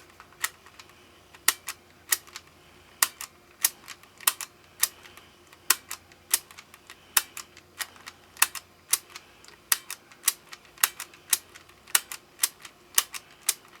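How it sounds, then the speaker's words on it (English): The record bar switch on a Toshiba RT-SF10 radio cassette recorder is pressed over and over, making sharp mechanical clicks at a steady, fairly quick pace, close and distinct over a quiet background with no voices. "This is how you actuate the recording bar switch."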